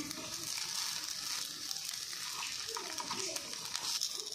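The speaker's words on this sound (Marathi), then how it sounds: "आता आपण हे देखील आप्पे दुसऱ्या बाजूने छान भाजून घेणार आहोत" Rava appe cook on their second side in an appe pan, sending up a soft, steady sizzle that runs throughout with faint stirring noises. Someone talks quietly underneath.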